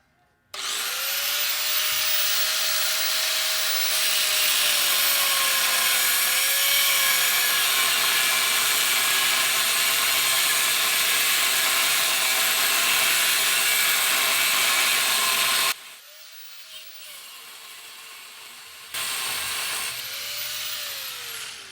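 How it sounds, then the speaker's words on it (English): A loud, continuous high-pitched screech of a cutoff wheel grinding through metal during a Bronco teardown, sustained for a long stretch, then cutting out briefly and returning. "I'll show you how to cut it off with a cutoff wheel"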